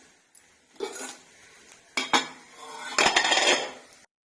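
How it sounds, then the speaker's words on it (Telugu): A spoon scrapes and clinks against a pan and bowl while potato and fenugreek leaf curry is served, in several short bursts of close metallic clatter separated by brief pauses, with no voices. "ఇప్పుడు సర్వింగ్ బౌల్లో తీసుకుని సర్వ్ చేసుకుందాం"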